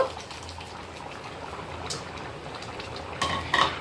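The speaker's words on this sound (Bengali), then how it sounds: "চালটা দেখো সুন্দরভাবে ফুটতে শুরু করে দিয়েছে।" Gobindobhog rice for pulao bubbles in a pot, a soft steady simmering hiss close by, capped by a couple of light clinks of metal utensils near the end.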